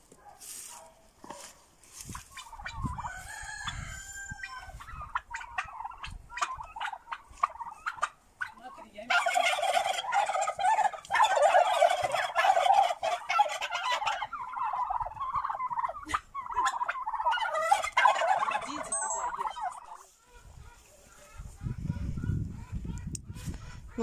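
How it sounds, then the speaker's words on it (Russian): Turkeys gobbling in a village yard, loud repeated bursts of gobbles and calls, busiest in the middle stretch, with quieter clucks and rustling around them and a low thump near the end. "Видишь, он индюков не пускает."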